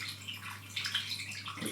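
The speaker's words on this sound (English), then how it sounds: "the other 500 millilitres of water that we got ready, the distilled water, the second jug, we're just going to tip that in" Distilled water tipped from a second jug into an Osmio Infinity water filter, a steady close pouring splash and trickle with brighter gurgles in the middle, no talking.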